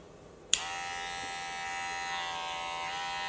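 After a brief quiet moment, a click switches on a hair clipper, whose rotary motor then runs in a steady, even buzz until the end.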